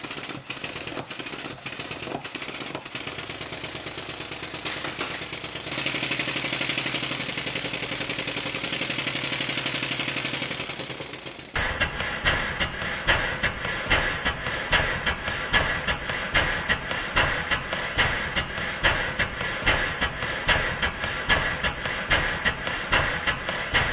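A model steam engine on a workshop bench running through a forward and reverse test, giving close, rapid rhythmic chuffing and clicking that shifts in character partway through and then continues as a steady beat.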